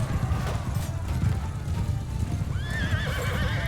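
Galloping horses in Mount & Blade II: Bannerlord, hooves pounding steadily through a battle din before a loud, wavering neigh rings out near the end.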